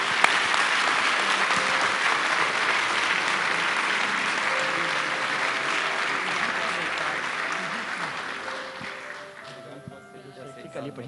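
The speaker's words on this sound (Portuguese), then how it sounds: "Aplauda o Senhor Jesus" A church congregation at a missions service applauds in a long, dense burst of clapping that fades toward the end, with voices heard over it.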